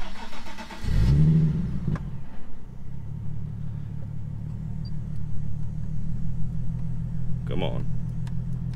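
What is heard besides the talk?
Nissan 370Z car engine starting and idling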